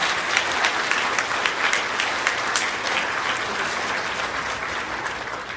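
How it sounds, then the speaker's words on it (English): An audience at a school awards ceremony for third and fourth graders gives a round of applause, a dense, steady wash of many hands clapping together that holds throughout without pause. "give them all a great round of applause"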